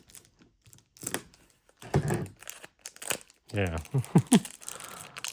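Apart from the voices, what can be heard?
tearing open trading card pack wrapper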